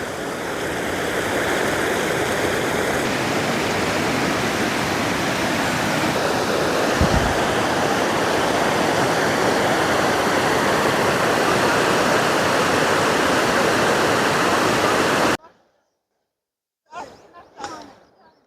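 River water rushing loudly and steadily where the channel splits in two, at a snowy mountain spot near Oshkhor; the continuous roar fills the scene for about fifteen seconds, then cuts away to brief quieter rustling.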